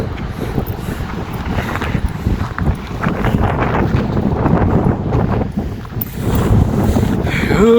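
On an exposed hilltop where a view tower is being built, heavy wind rushes and rumbles continuously close to the microphone, a loud, unbroken blustery wash.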